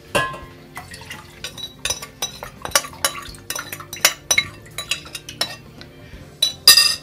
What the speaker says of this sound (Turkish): Ben şu an bu karışımımı tencereye aktarıyorum.